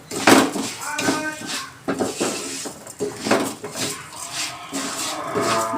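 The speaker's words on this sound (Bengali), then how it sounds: "আতপ চালটা দিয়ে ভালো করে এটাকে ভেজে নেব।" Aromatic atap rice dry-roasted in a pan for mango kheer, stirred with repeated scraping and clinking of a utensil against the metal, close and irregular over several seconds with no talk.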